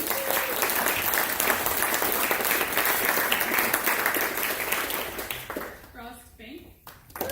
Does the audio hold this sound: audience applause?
yes